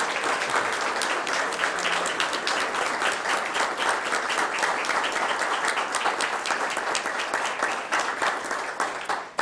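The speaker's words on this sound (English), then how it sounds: "let's stand and give them a great round of applause" Standing audience at a veterans recognition breakfast applauds a fallen soldier's family: sustained, even clapping from a large crowd filling the room for several seconds, tapering slightly at the end, with no speech over it.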